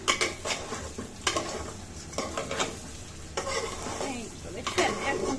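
Rice being dry-fried and stirred in a pan, with a soft steady sizzle broken by repeated scraping strokes of a utensil against the pan at irregular intervals.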